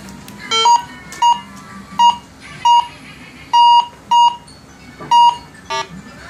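A Go Find 60 metal detector sounds a series of bright, high-pitched electronic beeps, seven or eight short tones at irregular intervals, as its coil passes over a brass target in an outdoor air test.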